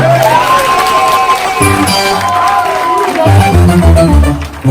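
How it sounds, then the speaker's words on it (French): A church congregation applauds and cheers loudly, with sustained clapping mixed with whoops and crowd noise while music plays underneath. "Applaudissez pour Jésus."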